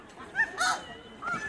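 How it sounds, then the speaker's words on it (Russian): Geese honk at a pond in the Moscow Zoo, a few short, nasal calls close by, mixed with voices talking. "Вот там гуси кричат, да?"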